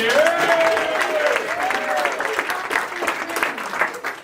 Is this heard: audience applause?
yes